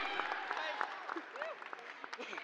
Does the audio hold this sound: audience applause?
yes